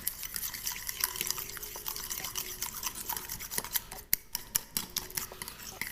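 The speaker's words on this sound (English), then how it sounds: "You want to try and get all the large clumps of flour out so it's a nice smooth paste, which is why the fork is good." A fork stirs flour and water into a smooth paste for a sourdough starter, giving close, wet scraping and clicking against the bowl with irregular taps and splashy stirring, no talk.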